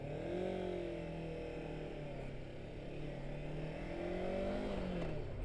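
A Honda CB500X motorcycle engine hums steadily while being ridden, with gentle rises and falls in pitch as the throttle shifts, heard from the rider's position over constant wind rush.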